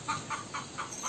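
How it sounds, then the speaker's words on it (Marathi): Chickens clucking in a short run of repeated calls, four or five evenly spaced bursts at close range with no talk over them. "कोंबडी लगेच आतमध्ये येतात"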